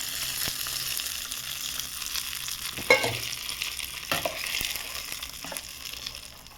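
Tempering oil is stirred into peanut chutney with a spoon, a soft close scraping and mixing over a faint sizzling hiss from the stove, with a couple of louder knocks against the bowl.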